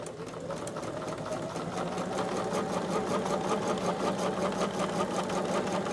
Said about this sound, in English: I thought I was sewing it the wrong direction